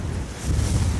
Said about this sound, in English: Well, here we are on a very windy ridge.